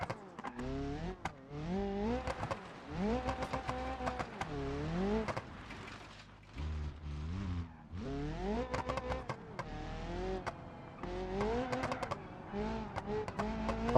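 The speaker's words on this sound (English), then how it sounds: "This is our new rally car for now." A rally car driven in the BeamNG video game, its engine note rising and falling through repeated gear changes and revs, loud and continuous with short lifts between bursts.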